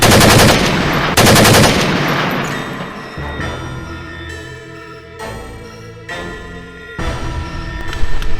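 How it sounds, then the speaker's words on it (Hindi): Loud, close bursts of automatic machine-gun fire in an army combat scene, rapid rattling volleys mixed with heavy booms and continuous firing throughout, with no voices. "गोलियां चल रही हैं।"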